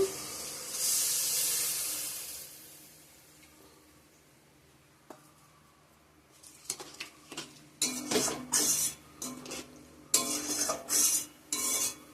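Water splashed into fried, oil-releasing spice paste in a hot pan gives a brief loud hiss, followed by quiet and then bursts of spoon scraping and clinking against the pan.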